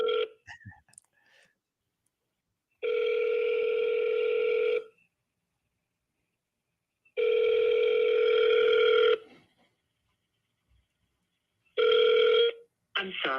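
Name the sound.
outgoing phone call ringing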